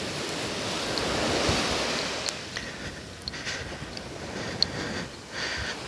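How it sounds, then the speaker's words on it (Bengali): Atlantic Ocean surf rolls in at Coney Island beach, a steady broadband roar of breaking waves with some wind buffeting the microphone, continuous and fairly loud with no voices. "এখানে যে গর্জনটাই শুনছেন এটা হচ্ছে সমুদ্রের এই ঢেউয়ের"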